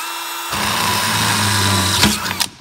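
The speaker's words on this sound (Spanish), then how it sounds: "Y taladramos." A power drill starts up and whines steadily as it bores through metal, a loud close grinding hum that ends with a few rattling clunks.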